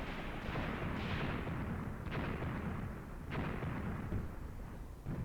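Distant mortar and gun fire in the war game Graviteam Tactics, a steady rumble of battle noise with a few sharper reports breaking through, no talking.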